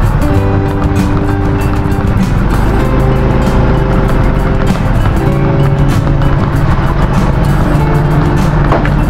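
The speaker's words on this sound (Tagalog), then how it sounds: "Shock ko yun. Shock na sira. Lagatok na spring na lang kasi yan" A car with a broken shock absorber and a loose spring knocks and rattles while driving, with irregular clunks buried in loud, steady engine and road roar that continues throughout.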